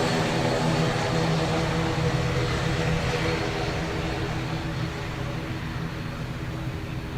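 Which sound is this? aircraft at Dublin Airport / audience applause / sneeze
aircraft at Dublin Airport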